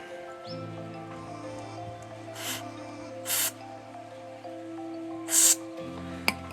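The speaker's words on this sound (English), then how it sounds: "just spray a little bit of brake cleaner in there, carburetor cleaner," Short hissing bursts of brake cleaner from an aerosol can on a Jaguar XKR, three quick sprays spaced a second or so apart over a low steady hum.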